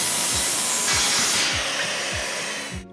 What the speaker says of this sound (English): Move on down the line and make your 30 degree cuts.